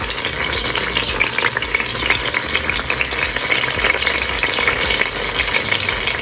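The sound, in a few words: lemongrass frying in hot oil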